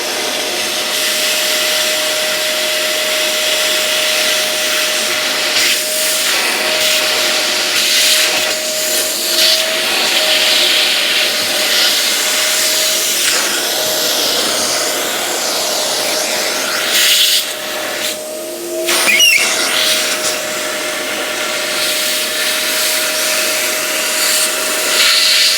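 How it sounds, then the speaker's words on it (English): A vacuum cleaner runs steadily with a loud, airy whine and a constant hum, briefly dipping and shifting pitch near the end. "Turn your vacuum on."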